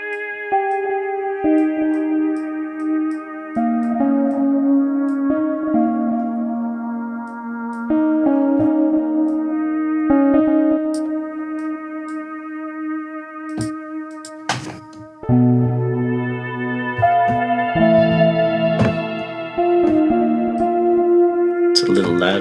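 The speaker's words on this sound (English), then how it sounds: "And some echo, because everything is better with echo." A synthesizer patch in Reason plays sustained, layered notes with an echo effect, with repeating tails trailing each phrase and a few percussive clicks. The tone shifts partway through as the sound is tweaked.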